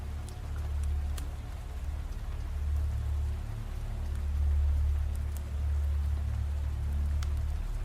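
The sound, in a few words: rain sounds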